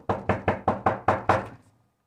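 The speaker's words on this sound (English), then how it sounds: "He knocked on the door." Seven quick, evenly spaced knocks on a door, close and crisp, come alone with no voices and fade into silence after the last rap.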